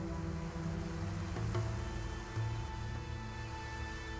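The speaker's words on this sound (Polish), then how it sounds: "Kamienie teleportacyjne nie działają, ale wciąż słychać szum." Inactive teleport stones in the Gothic 2 video game give off a steady, low electric hum with a faint buzzing edge. It plays alone and unbroken throughout, with a few soft swells along the way.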